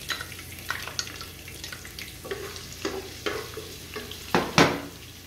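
Chopped onions sizzle in hot oil in a home kitchen pan for a potato and eggplant sabzi, with a spoon scraping and stirring in repeated strokes and a louder clatter near the end.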